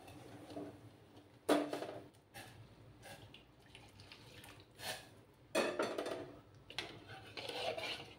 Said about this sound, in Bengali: বাটিটা ধুয়ে আমি গরম জল দিচ্ছি।